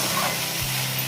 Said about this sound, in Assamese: এতিয়া ভালদৰে আমি ভাজিখিনি লৰাই ল'ম।